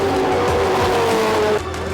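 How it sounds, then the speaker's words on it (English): GT race cars run on track at the Adelaide 500 street circuit, a loud, continuous engine roar with tonal whine from the passing cars, dipping slightly near the end, close and with no talk. "I can hear the GT cars on track right now."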